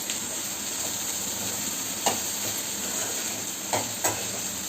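Onion, green chili, curry leaves and ridge gourd sizzle steadily in a hot pan with a constant hiss, with a few sharp stirring scrapes near the end, and no talk.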